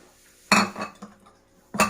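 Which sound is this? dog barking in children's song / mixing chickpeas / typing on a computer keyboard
mixing chickpeas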